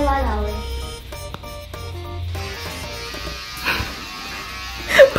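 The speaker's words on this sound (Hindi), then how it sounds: "पापा ट्रिमर यूज करते हुए आ गए।" An electric hair trimmer buzzes close by in a home, with a steady whirring hum mixed with tonal background sounds and occasional voices.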